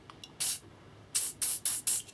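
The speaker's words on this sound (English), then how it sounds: "spray a wee bit of WD-40 on that" WD-40 aerosol can sprayed onto a rag while cleaning a retro games console: five short, loud hissing bursts, one brief blast followed by four quick evenly spaced spurts, close up with no talking.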